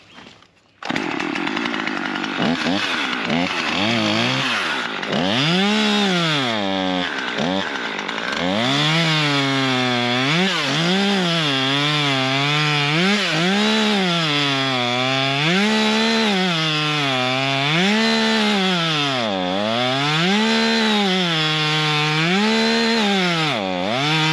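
A Husqvarna chainsaw cuts wood, close and loud, the engine pitch dipping and rising steadily as the chain bogs into the cut and revs back out.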